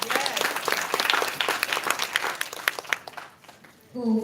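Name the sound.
audience clapping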